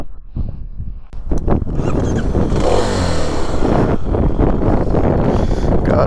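A 2023 Kawasaki KLX300 SM motorcycle starting off on a ride, opening with a few handling clicks before a close engine note rises and holds steady, accompanied by rushing wind noise against the microphone.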